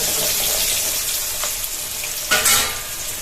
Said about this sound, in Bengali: একটু ভাজতে হবে আলুটা তেলের মধ্যে, তেলের মধ্যে ভাজতে হবে।